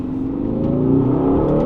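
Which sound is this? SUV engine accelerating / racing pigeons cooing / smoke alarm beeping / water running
SUV engine accelerating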